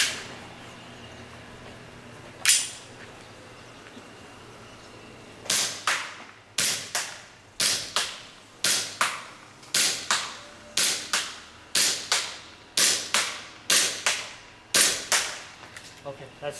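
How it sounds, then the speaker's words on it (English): A WE G18C airsoft gas pistol shoots 0.2 BBs on green gas: one sharp, close pop, a pause, then a quick, even string of snappy shots in steady rhythm, each followed by a short decay. "We fire 10 rounds."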